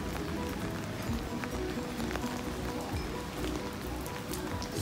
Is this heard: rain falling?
yes